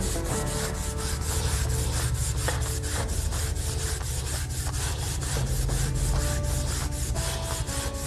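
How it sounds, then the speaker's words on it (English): A hand scrubbing pad rubs steadily over an oxidized stain on a hardwood floor, making a continuous, close, rhythmic abrasive scratching with no talking. "Put some more on and scrub away."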